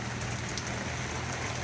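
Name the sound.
rain falling outdoors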